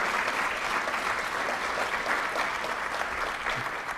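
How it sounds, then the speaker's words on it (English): A college lecture audience gives sustained, dense applause, many hands clapping evenly and loudly throughout with no pause. "Would you just give a round of applause for the people and the heroes we lost on 9/11?"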